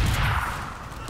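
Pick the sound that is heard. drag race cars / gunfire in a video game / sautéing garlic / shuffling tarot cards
gunfire in a video game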